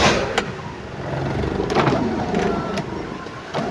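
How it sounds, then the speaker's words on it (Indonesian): A 2004 Hyundai Atoz GLX with a 1000 cc four-cylinder engine starts and settles into idle. Close by, a steady low engine hum runs underneath a few sharp mechanical clicks and knocks. "Dan sekarang kita coba cek, kita nyalakan mesinnya,"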